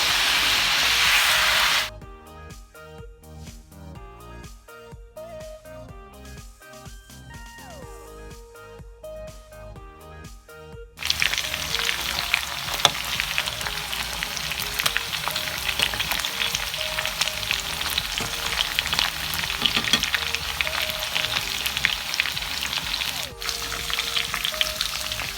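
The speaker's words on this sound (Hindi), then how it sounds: "चिकन फ्राई कर लिए और ये ठंडी हो गई है।" Chicken pieces browning in hot oil in a pan, a loud continuous sizzle and crackle, broken by a quieter stretch early on before the frying noise returns strongly and keeps going.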